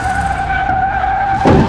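In Car Mechanic Simulator, a handbrake turn makes a car's tires skid in a short, sustained squeal over engine hum, ending in a brief louder scrape.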